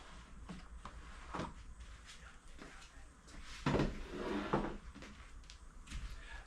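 Wooden drawers slide out of a Gerstner tool chest in a home workshop, giving soft scraping and knocking sounds in several bursts, with one louder thump near the middle, at a low, close level.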